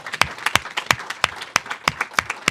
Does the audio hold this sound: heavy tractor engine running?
no